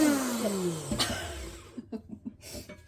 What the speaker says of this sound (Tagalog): Napindot ko pa yung blender.